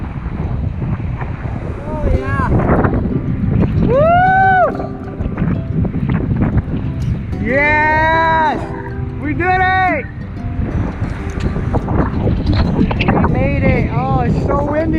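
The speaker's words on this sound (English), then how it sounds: "it's so windy right now." Strong wind buffets the microphone on an island shoreline, giving a constant roaring rumble while excited voices talk and exclaim over it.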